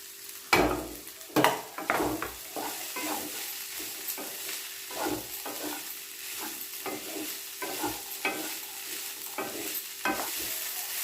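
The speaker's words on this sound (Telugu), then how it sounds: "ఇప్పుడు ఈ బీన్స్ వేసుకొని అంతా కలుపుకోవాలి" Beans are stirred in a hot pan for a carrot-bean fry, a close, soft sizzle broken by repeated scraping strokes of a spatula in an uneven rhythm.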